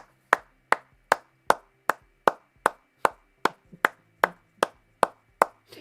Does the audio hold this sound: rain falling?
no